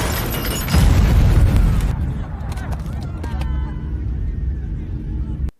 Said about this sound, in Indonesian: ya, ledakan dahsyat itu melukai beberapa tentara tadi.